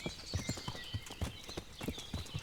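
Horse hooves clip-clop in the medieval video game Kingdom Come: Deliverance, a steady walking rhythm of close, distinct thuds. A soft tonal ambience hums underneath, and no one speaks.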